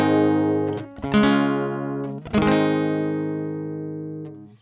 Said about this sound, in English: We'll take basic chord changes for an easy example.